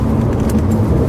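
Porsche 997 Phase 1 with valved exhaust silencers opened rumbles as it drives into a tunnel, a continuous deep engine drone heard from inside the car, loud and steady for a brief moment.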